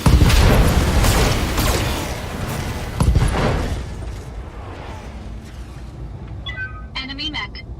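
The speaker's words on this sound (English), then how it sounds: "Target one of those burnt-out old urban mechs and open fire." Mech weapons fire in the BattleTech video game, heavy booming blasts and explosions rolling over the first few seconds as a mech is destroyed, then dying away into quieter mechanical sounds.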